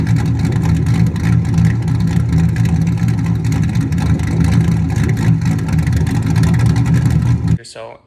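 A modified car engine idles with a loud, steady rumble in the pits for about seven seconds, then cuts off abruptly near the end.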